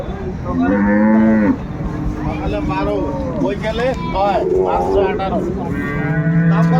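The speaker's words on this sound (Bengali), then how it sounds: "এখানে একটা দেখছিলাম গাভী বাছুর সুন্দর" Dairy cows and calves at the Ambari cattle market in Dinajpur moo loudly and repeatedly, with long, close calls that overlap and carry on above a background of people talking.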